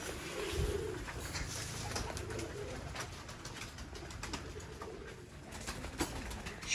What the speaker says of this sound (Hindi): छतों वाले कबूतर